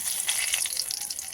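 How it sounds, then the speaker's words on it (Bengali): Bay leaf, dried red chilli and nigella seeds hit hot mustard-oil in a pan after fish has been fried, giving a bright crackling sizzle with rapid spitting pops, close and steady over a short burst. "এখানে ফোড়ন দেবো আমি তেজপাতা,"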